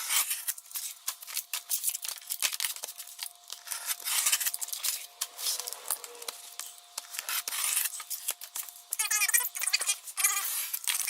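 Sheets of sound deadener being cut for the cab floor of a 1950 Ford F-1 truck: steady, close crinkly snipping and rustling runs continuously throughout, with no voices.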